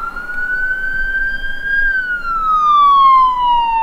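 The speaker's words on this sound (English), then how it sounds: "When you hear the sirens and see the lights coming down the road," Ambulance siren wailing loud and close, a single steady tone that rises slowly and then sweeps down, heard on its own with no talk.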